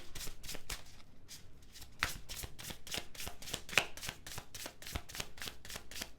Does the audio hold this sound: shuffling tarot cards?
yes